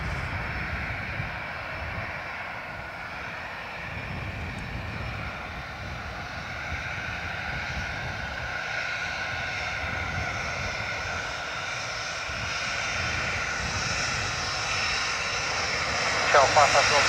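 An airliner lands on runway 28 left at Dublin Airport, a steady broad engine roar rising slightly toward the end, with a voice talking over it.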